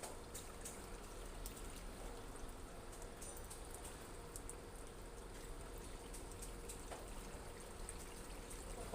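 Faint, steady rush of water pouring into a Westpoint washing machine, a continuous soft trickling hiss with small splashy ticks, heard at low level throughout.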